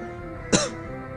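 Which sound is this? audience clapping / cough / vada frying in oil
cough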